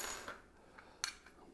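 Freshly unpacked keys for a new mortise lockset, clinking lightly as they are handled: a few small, sharp metallic taps, close by and fairly quiet.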